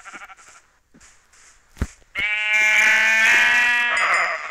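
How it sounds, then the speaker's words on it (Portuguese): Sheep in a video game bleat loudly in a single long wavering cry, preceded by a few short quieter bleats and clicks. "Tem mais ovelhas aqui."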